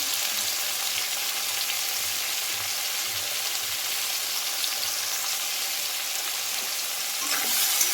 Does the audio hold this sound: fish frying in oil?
yes